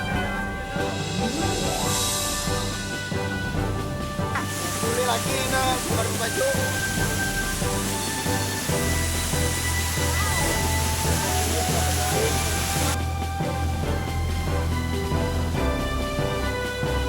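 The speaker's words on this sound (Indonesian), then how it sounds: "kami langsung saja menikmati segarnya air terjun Minanga" Minanga waterfall pours steadily, a dense, loud rush of falling water heard close up that continues without a break, while music plays throughout over the roar.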